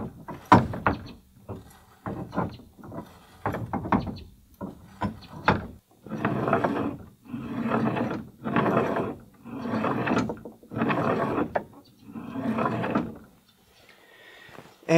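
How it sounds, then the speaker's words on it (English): The brake lever on a pioneer wagon is worked again and again, pressing a wooden block against the wheel. It makes a series of about a dozen rhythmic creaking, grinding strokes, close by, with short pauses between them and no talking. "it pivots this piece of metal backwards, which pushes this whole thing and this block of wood into the wheel as the brake."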